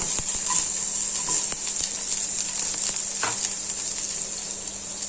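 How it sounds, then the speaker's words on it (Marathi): Onion sizzling and frying in hot oil with cumin seeds, a steady loud crackle throughout with a few soft stirring scrapes, no talking. "आता आपण यामध्ये टाकूया कांदा।"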